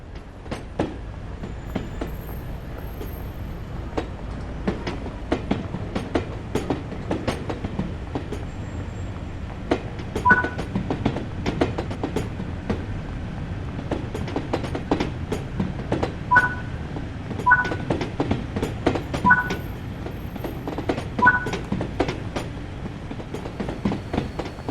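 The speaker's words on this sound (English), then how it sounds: "how to drive an LMS Stania Class 8F steam locomotive in BR Black" An LMS Stanier Class 8F steam locomotive in BR Black livery in Train Sim World 3, a steady rolling rumble with rhythmic clattering wheel beats and a few brief squeals over about twenty-five seconds, no voices.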